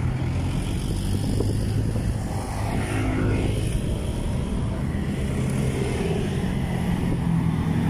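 Steady, dense roar of many motorcycles streaming across Javier Bridge in Pasig, Metro Manila, a continuous low engine drone with overlapping passing riders, close and loud throughout with no break.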